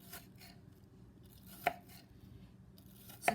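A knife cuts vegetable sticks into smaller pieces, giving a few sharp, quiet chops on a board, two of them distinct, spaced about a second and a half apart over faint room noise.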